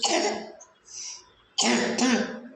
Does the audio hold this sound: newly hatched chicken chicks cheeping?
no